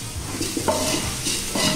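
Rice tossed with coriander powder and masalas is stirred in a hot pan, with close scraping and shuffling strokes over a soft sizzle in a short burst of steady stirring.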